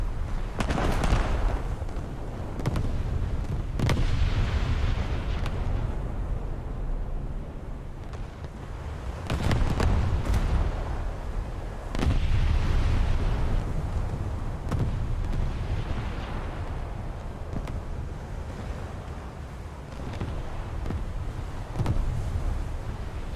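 Battleship main guns firing HE shells in World of Warships, with several deep booming salvos spread across a continuous rumbling background of sea and engine noise, loud and sustained with no voices.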